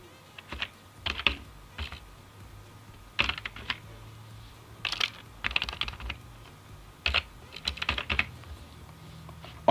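Someone types on a computer keyboard in short bursts of quick key clicks separated by pauses, close and fairly quiet, with no talking.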